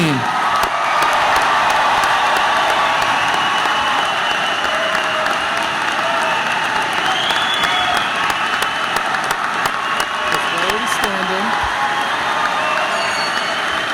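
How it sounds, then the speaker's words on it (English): A large crowd at the Unionville High School Class of 2016 graduation applauds and cheers, sustained dense clapping with scattered whoops and children's shouts running steadily throughout. "Can we have another round of applause for the class of 2016?"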